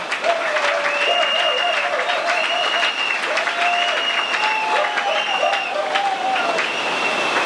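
A large crowd at a Congolese political rally applauds loudly and steadily, a dense wash of clapping with wavering tonal calls or horns riding over it throughout.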